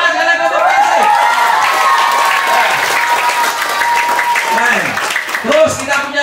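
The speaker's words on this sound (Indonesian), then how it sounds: "Tepuk tangan kalian untuk PC." Lively applause from an audience of children and adults at an English and character day camp, dense steady clapping mixed with excited voices and shouts throughout, loud and close.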